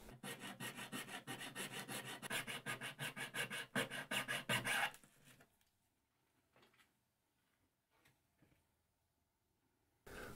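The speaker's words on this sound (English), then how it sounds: "I'm filing some square pockets to accommodate the anti-rotation stubs on the switches." A hand file rasps square pockets into a cabinet panel for switch mounts. Rapid, rhythmic back-and-forth strokes sound close and fairly loud for about five seconds, then give way to quiet scattered taps.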